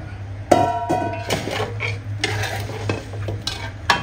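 Pieces of half-fried chicken clatter and scrape in a hot pan, with an oily sizzle running beneath repeated stirring strokes.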